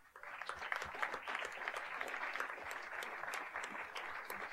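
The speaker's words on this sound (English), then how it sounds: "Please give them a round of applause." An audience applauds after a jazz octet's live performance at Berklee, steady dense clapping from a crowd sustained throughout, moderately loud and without pauses.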